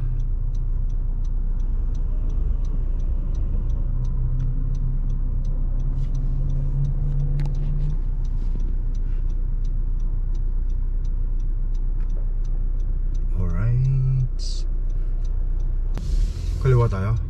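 Steady low engine hum and road rumble inside a truck cab on a Canadian road, with a faint regular ticking like a turn signal and people talking over it.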